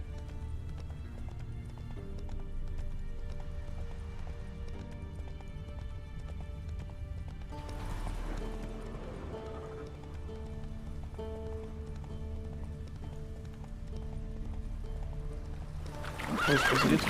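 A horse in The Witcher 3 gallops with rapid, continuous hoofbeats and neighs loudly at moments, with flowing water in the game's background throughout.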